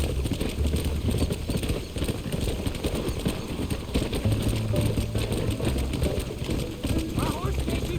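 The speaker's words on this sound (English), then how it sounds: "My horse can't keep up." Steady rhythmic hoofbeats of a galloping horse in the video game Red Dead Redemption, close and continuous, with rumbling ambience underneath throughout.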